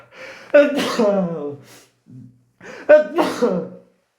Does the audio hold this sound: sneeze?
yes